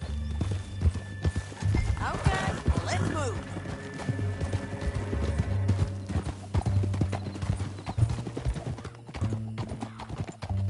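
Horse hooves clip-clopping in a video game canyon chase, a steady rhythmic trot with a brief whinny, heard under talking voices and close by.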